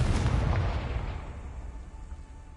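In Hogwarts Legacy, the Confringo fire spell goes off with a sharp, booming blast that rumbles and fades away over about two seconds.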